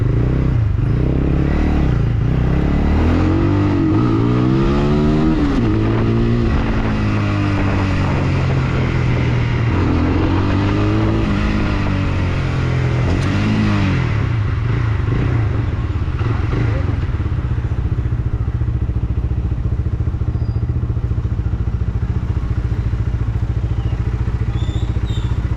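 A Taro GP 1 250 motorcycle on a test ride revs up and down through several loud rising and falling engine sweeps, then settles into a steady roar with wind and clatter, recorded on the bike.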